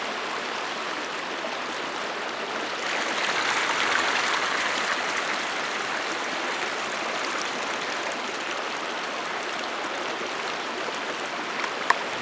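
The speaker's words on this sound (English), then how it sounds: "I'm just going to submerge this whole bundle of wood in this water" A bundle of wood pushed underwater to soak it, with steady broadband rushing and bubbling of water that swells briefly early on, then settles to a continuous close wash.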